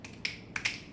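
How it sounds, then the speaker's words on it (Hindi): Several crisp finger snaps from one hand, four or five quick sharp clicks spaced unevenly within a second, close and clear in a quiet room. "जो डोमिनेंट हैंड है उससे 5 बार चुटकी बजाइए प्लीज"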